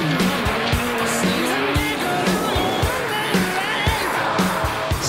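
Peugeot 405 race car pulling away from a standstill at a hairpin, heard from inside as a loud, continuous engine strain with rising and falling pitch and repeated gear-change dips, steady and close throughout.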